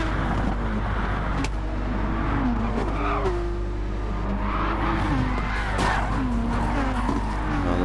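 Race cars in Gran Turismo 7 at Bathurst, engines droning loud and close with rising and falling revs and tire squeal through the corners, alongside a low steady hum.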